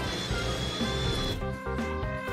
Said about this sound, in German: Teddy hat dir einen Bohrer mitgegeben,